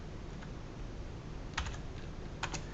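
Soft keystrokes on a computer keyboard while typing HTML code: a few light isolated taps, then two small clusters of quick clicks, close and quiet.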